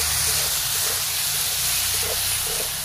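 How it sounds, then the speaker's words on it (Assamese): Eggplant frying in a pan with ground coriander and cumin, a steady loud sizzle and hiss close by, with faint stirring under it. "বেঙেনা কেইটাও এতিয়া ধুনীয়াকৈ এনেকৈ লৰাই ভাজি থাকিম।"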